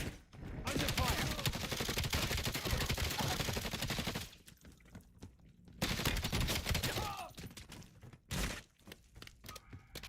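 Gunfire in Call of Duty Black Ops 7, with dense bursts of automatic fire and impacts that rattle loudly for several seconds, drop to a lull, then return in shorter volleys and single cracks.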